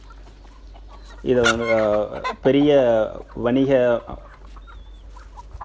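Mother hens cluck loudly and repeatedly on a chicken farm, in three strong bursts mid-clip with some speech heard alongside.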